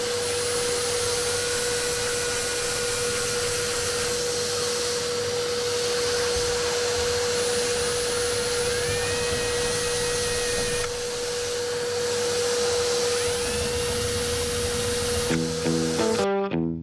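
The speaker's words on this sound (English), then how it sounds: "we have to make sure to hoover it all up" A vacuum cleaner hoovers up metal debris inside a Mercedes Sprinter van during a build with rust, its steady loud motor whine running continuously with high tonal whistles before cutting off near the end.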